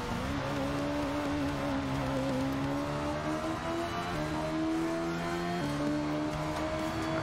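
A Peugeot race car in the video game Hot Lap Racing drones steadily at sustained engine speed, with small pitch shifts as it drives, loud and continuous with no talk.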